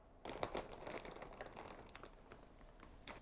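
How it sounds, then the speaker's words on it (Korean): Close, quiet crinkling of a plastic bag as a package of angora yarn balls and knitting supplies is opened, continuous rustling and crunching with a few sharper crackles. "주문한 패키지가 왔습니다. 언박싱 해볼게요."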